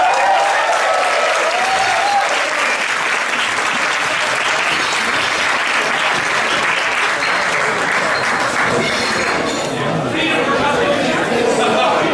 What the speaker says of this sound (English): A round of applause for Journey Forward.